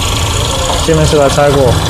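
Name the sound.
Peugeot 508 engine idling at startup with abnormal noise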